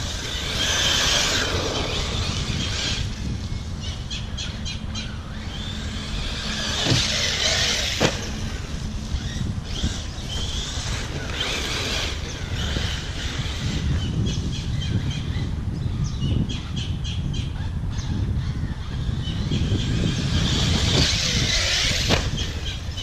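A Hobao Hyper VSE RC car drives and jumps ramps, its electric motor whining in repeated throttle bursts that rise and fade while the car comes and goes at moderate loudness.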